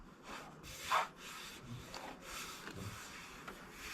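Close-up rhythmic rasping strokes of sandpaper rubbing back and forth on wood, steady and fairly quiet, with no talking.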